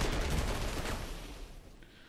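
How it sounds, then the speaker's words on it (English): Panzer IV J tanks fire on Sherman Fireflies during a WWII strategy video game battle, a dense, loud burst of overlapping gunfire and blasts that slowly fades over two seconds, with no talking. "I've got Panzer IVJs firing on Sherman Fireflies"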